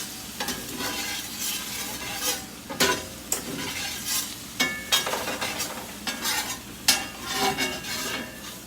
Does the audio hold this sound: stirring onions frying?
yes